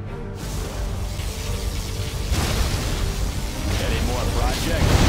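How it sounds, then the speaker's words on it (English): Heavy booming blasts and rumbling energy bursts from a video game particle cannon, loud and sustained, with synthetic explosive surges building over several seconds. "Particle cannon activated."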